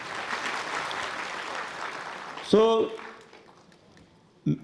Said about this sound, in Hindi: इनके लिए जोरदार तालियां बजाई गई।